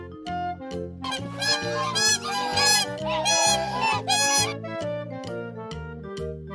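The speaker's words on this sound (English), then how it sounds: "Swan." Swan giving a series of loud, repeated honking calls, close and insistent, with harsh nasal bursts overlapping the steady rhythm.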